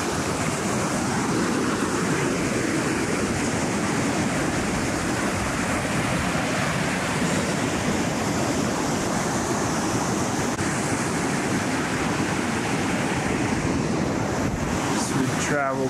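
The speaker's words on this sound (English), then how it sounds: "We're gonna walk down this beach." Surf breaking on a Lake Superior beach near Chapel Rock, Michigan: a continuous loud wash of waves with heavy wind buffeting the microphone throughout.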